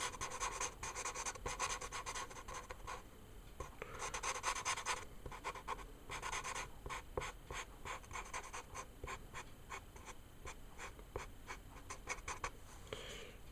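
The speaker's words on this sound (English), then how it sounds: "I'm using like the chisel tip of the markers just to fill in like a larger area" Chisel-tip Letraset Promarker scrubbing across paper while colouring in a Halloween pumpkin design, a close, steady rhythmic rubbing and squeaking of broad strokes that runs throughout at low volume.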